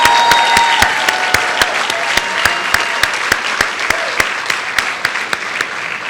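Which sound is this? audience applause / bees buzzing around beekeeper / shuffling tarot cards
audience applause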